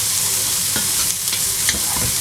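Aubergines sizzle steadily in a pan for chakchouka while a utensil stirs and scrapes through them, a close, dense frying hiss with soft scraping strokes and no talking.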